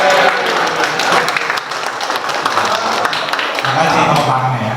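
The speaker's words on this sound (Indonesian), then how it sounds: "Terima kasih tepuk tangannya ya." Audience applause at a Halal Bi Halal gathering of an Indonesian internet providers' association, a dense steady clapping that fills the room for the full few seconds, loud and close, with voices mixed in underneath.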